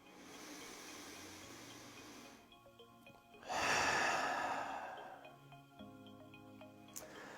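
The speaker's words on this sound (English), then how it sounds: "One more big breath in." A single big, deep breath drawn in and then let out in a long, loud exhale, heard up close and alone, with no talking.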